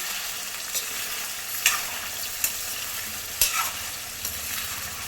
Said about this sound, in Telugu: చికెన్ ముక్కలు చాలా రెడ్గా అయినంత వరకు వేయించుకోవాలి